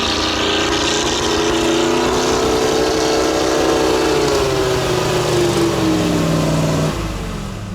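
A GAZ-66 'Shishiga' military truck engine revs hard while stuck in mud, a loud sustained drone rising and falling in pitch for several seconds before easing off, with no talk over it.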